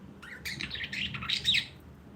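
A close bird gives a quick run of bright chirps and tweets over about a second and a half, with no voices around.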